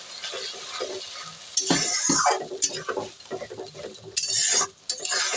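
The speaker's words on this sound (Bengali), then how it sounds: "এবার মশলাটাকে ভালো করে কষিয়ে নেব।" Spice paste for a cucumber and shrimp curry frying in a pan, stirred with a utensil: soft sizzling under intermittent scraping and clinking strokes against the pan, close by, with irregular bursts.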